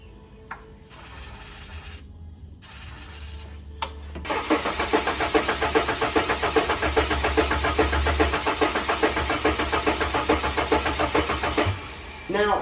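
A Ford AU Falcon with a reworked trigger setup cranks with a ratcheting starter whir, then catches and runs at a loud, rough, pulsing idle close by before cutting out near the end.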